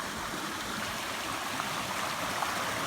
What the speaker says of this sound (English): we're coming up on some water up here. We've been hearing it for the last few minutes. A nice stream.